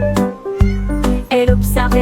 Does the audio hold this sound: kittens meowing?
yes